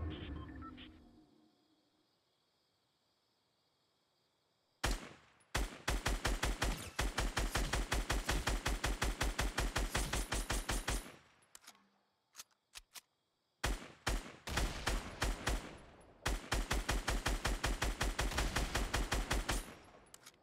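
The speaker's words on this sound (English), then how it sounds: "Someone just got sniped right next to me, I'm pretty sure." Rapid gunfire in Fortnite Battle Royale: two long, loud sustained volleys of evenly spaced shots separated by a short gap, with no talk over them.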